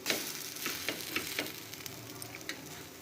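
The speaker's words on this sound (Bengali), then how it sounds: "এই চিংড়ি মাছের মাথার বড়াগুলো কিন্তু ভাজতে খুব বেশি একটা সময় লাগে না" Prawn head fritters frying in hot oil give a steady close sizzle with soft crackles and pops throughout, no voices.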